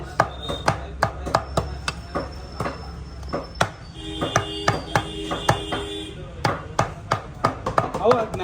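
Native goat meat chopped into small pieces at a Chengicherla mandi meat shop in Hyderabad: sharp, close, hard chops in a fast, steady rhythm, about twenty strikes, with a faint tonal hum and background noise behind them.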